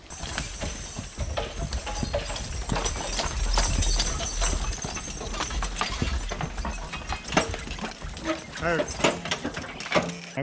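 A single horse hitched to shafts hauls a load out toward a logging landing, its hooves clip-clopping in an irregular, close rhythm with wooden knocks and creaks, while someone speaks intermittently.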